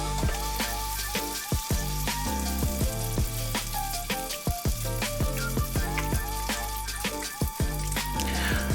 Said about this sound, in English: we'll stir that in there and let that continue to simmer